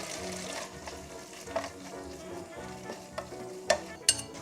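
Seaweed (miyeok) sizzles steadily while being stir-fried in perilla oil for a Korean soup, with a continuous crackling hiss and a few sharp utensil clinks near the end, and no voices.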